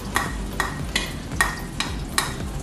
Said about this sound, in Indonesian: Bumbu halusnya ini kita tumis ya.